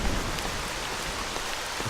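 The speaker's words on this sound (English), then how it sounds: "the torrential downpour that's occurring" Torrential rain in the video game S.T.A.L.K.E.R. Shadow of Chernobyl makes a loud, steady, dense roar of downpour that fills the whole stretch without pause.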